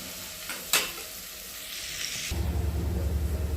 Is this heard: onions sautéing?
yes